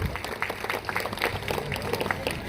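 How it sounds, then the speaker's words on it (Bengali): A crowd at an open-air election rally in a city ward claps to greet a candidate, producing a steady, moderately distant patter of applause with some crowd murmur mixed in. "সবাই একটু করতালির মাধ্যমে ওনাকে অভিবাদন জানাবেন।"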